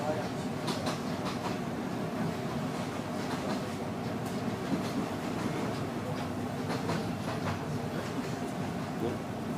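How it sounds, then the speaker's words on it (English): A passing train near the Bangkok to Chiang Mai railway line rolls by steadily, with a continuous rumble and rhythmic clicking of wheels over rail joints that carries on for nearly ten seconds. "Oh, train going by."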